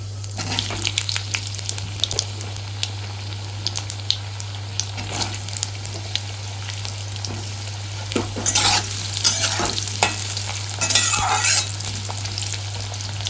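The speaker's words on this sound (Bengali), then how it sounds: "আলুটা একটু ভাজা ভাজা হতে দেবো।" Potatoes fry in a pan over steady sizzling, with repeated scraping and clattering strokes of a spatula stirring them and louder wet bursts of sizzle toward the end; no speech.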